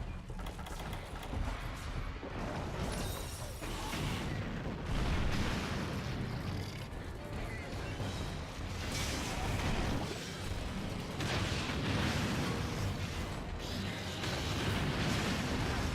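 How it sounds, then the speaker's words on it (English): Brachydios explosions in Monster Hunter Generations Ultimate, heavy booming blasts and rumbling bursts running continuously and loudly without speech. "G-rank Brachy's will almost always go for 2 of those explosion lines whenever they try for 1."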